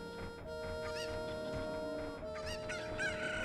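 Chickens cluck and squawk repeatedly in a Zelda randomizer video game, a few bright bird calls rising over a steady musical game backdrop.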